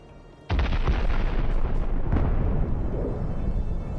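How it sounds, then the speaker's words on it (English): Artillery fire slams into armored vehicles in a combat setting, opening with a sudden heavy blast followed by a sustained roaring rumble and further booms, loud and close throughout with no talk. "Artillery opens fire with precision."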